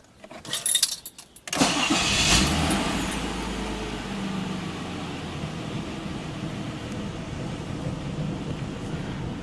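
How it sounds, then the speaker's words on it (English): A car engine cranks briefly after some handling clatter, catches and settles into a steady idle hum that carries on to the end, with no talk over it. "Let me go ahead and start the engine."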